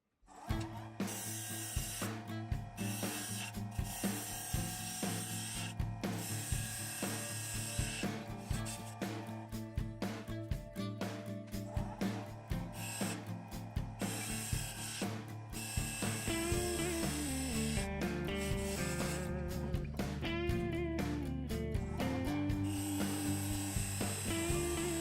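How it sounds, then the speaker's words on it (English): A cherry and walnut vessel spins on a wood lathe while a tool cuts its back: a continuous droning hum with steady motor tones and rough scraping, close and unbroken, shifting lower partway through. "I am going to turn this back to match the inside of the bowl."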